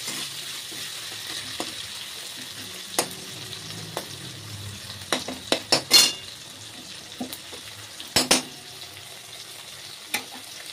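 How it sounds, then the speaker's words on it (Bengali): Fish head and banana stem curry with chopped tomato sizzles steadily in a pan, broken by a series of sharp scraping clacks from a stirring utensil against the metal, fairly close and with no talk. "এটা একটু নাড়াচাড়া করে নেব।"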